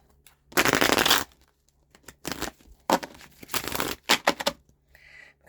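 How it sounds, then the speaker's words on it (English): Several bursts of cards being shuffled, riffling quick and close, each lasting under a second with short pauses between them. "Give it one more shuffle."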